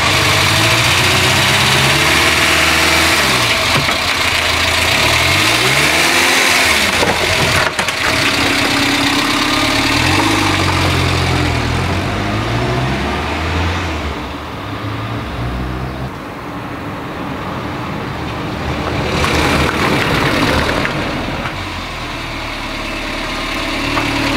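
A Renault car engine runs just after a head gasket repair, a loud, steady mechanical drone with the pitch rising and falling as it is revved, recorded close for about twenty-four seconds.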